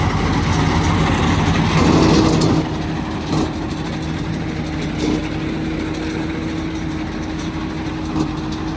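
A Panesar G60 mini combine harvester, 74 HP BS4 engine, harvesting wheat: a steady, close engine drones continuously with a low hum and a brief rise in intensity early on, no voices present.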